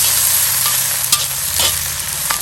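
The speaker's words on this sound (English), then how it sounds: "Give them a stir." Red peppers stirred in extra virgin olive oil in a Lodge cast iron wok over a Weber charcoal grill, a steady close sizzle of frying with scraping stir strokes, no talk.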